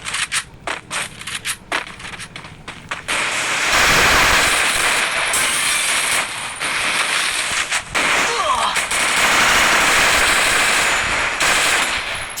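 Rapid bursts of automatic gunfire from a mobile shooting game in a custom match, first as sparse separate shots, then a sustained loud barrage of continuous firing that goes on for many seconds.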